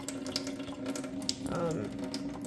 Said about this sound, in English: After I got my ackee open, the can of ackee open, just remember to throw out the water.